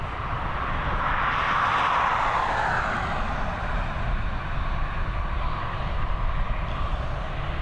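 An ATR turboprop airliner climbs away from Dublin Airport with a loud, steady engine roar and a broad rumble that slowly fades and shifts, heard alone and close.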